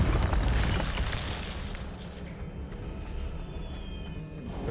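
An Incendio fire spell in Hogwarts Legacy bursts out as a loud, roaring blast of flame that crackles and slowly fades into a lingering hiss.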